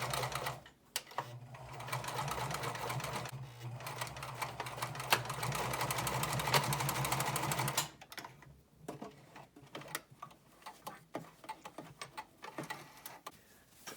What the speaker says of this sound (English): go ahead, sew a short seam down to the chalk mark